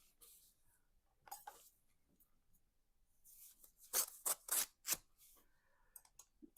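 Crisp paper tearing and rustling as a mailed card envelope is opened, with several quick, close rips in a cluster amid softer handling noises.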